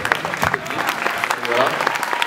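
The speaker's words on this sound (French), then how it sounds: "je voudrais qu'on l'applaudisse" Audience clapping fills the space at a French public debate, a dense patter of many hands applauding, with some voices mixed in.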